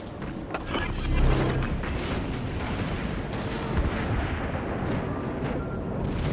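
Naval guns firing from warships in World of Warships, including a Kongou battleship, as heavy booming salvos and rumbling blasts that overlap in a dense, continuous barrage.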